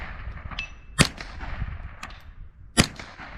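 Ruger 10/22 .22 rifle firing at targets outdoors: two sharp, fairly distant cracks about two seconds apart over faint background noise, with softer pops in between.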